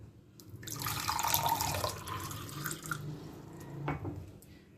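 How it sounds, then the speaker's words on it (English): Water is poured from one glass into another, a steady close splashing and trickling stream that rises, tapers off and ends with a few drips, with no voices. "For example, when we pour water in another glass,"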